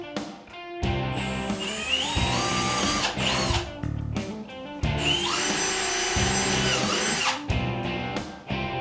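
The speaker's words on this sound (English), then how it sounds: "locate the markings under the lip and drill just as we did in the front" A power drill bores holes into the rear of an Otter XT X-Over snowmobile sled, whining in several long runs that rise and fall in pitch, with short pauses between bursts.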